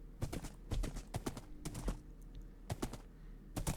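Minecraft horse hooves clop in short, crisp clusters of two or three beats while riding, fairly quiet with brief gaps between steps.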